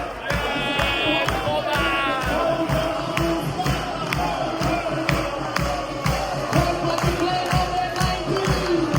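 A football crowd in Malta celebrates a goal, chanting with sharp, rhythmic group claps beating at a steady pulse under a loud, roaring stadium din.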